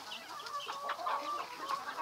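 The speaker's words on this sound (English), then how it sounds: "This is our fourth and last batch of meat chickens for this year." Several meat chickens cluck softly nearby in an overlapping, steady chatter, with occasional higher peeps among them.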